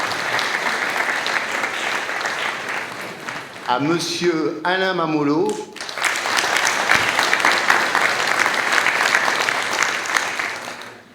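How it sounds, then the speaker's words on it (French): Applause from the audience at a Marly town council meeting greets newly elected council members. It runs loud and steady throughout, with a voice reading out names partway through. "vous pouvez applaudir"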